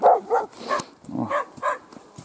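Puppies bark in a taiga setting, a close burst of short, high yips and barks in an uneven rhythm.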